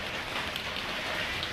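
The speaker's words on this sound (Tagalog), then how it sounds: "umuulan na." Steady rain falls outdoors, a dense, even hiss of drops pattering on surfaces with no voices.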